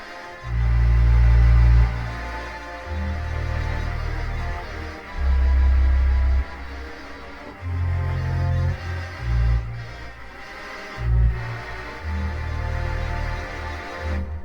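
Theatre organ vox humana and string stops sustain chords in deep, breathy layers with a shimmering tremolo, shifting between held notes in slow phrases.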